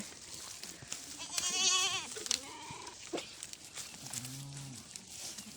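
Several wavering, nasal bleats from sheep, a couple of drawn-out calls and some shorter ones, fairly close with background noise and no talking.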